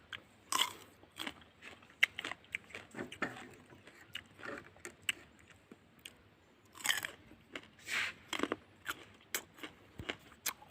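Close crunchy biting and chewing of fresh jujube fruit picked from a garden, with repeated crisp bites and wet chewing in irregular bursts, loud and near, no talking.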